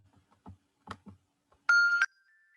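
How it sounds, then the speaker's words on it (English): Bells on an adapted children's toy, driven by a switch, chime in one bright sustained burst with a short ringing tail after a few soft knocks and handling taps. "the child can touch the switch and then the bells go around"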